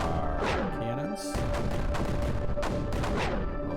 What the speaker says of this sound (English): So we've got our cannons.